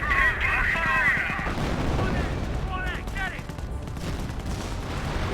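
A creeping artillery barrage in the Company of Heroes strategy game, with dense rumbling blasts and rattling gunfire running throughout, partly under a commentator's talk and other game sounds.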